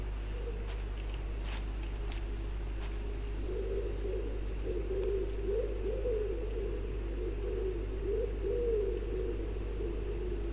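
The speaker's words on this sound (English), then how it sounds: "Never heard a pigeon at night," A pigeon coos softly at night in the video game The Last Case of John Morley, a steady run of low murmuring calls over a constant hum and faint distant clicks, with no talking.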